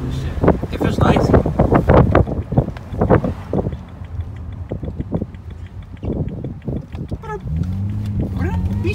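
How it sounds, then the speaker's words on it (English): Cold wind gusting outdoors at a Hilton Head Island cars and coffee meet, buffeting the microphone in rough bursts under nearby conversation, with a car engine humming near the end. "that wind is cold as shit"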